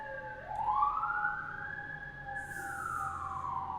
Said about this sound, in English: So I'm sorry for the sirens.